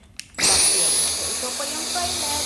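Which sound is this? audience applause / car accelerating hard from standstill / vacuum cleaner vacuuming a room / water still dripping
vacuum cleaner vacuuming a room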